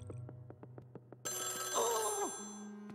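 A telephone rings in the video game Luigi's Mansion 3, a series of quick repeated bell pulses that give way to a bright, sustained chiming tone with a sliding effect over game music.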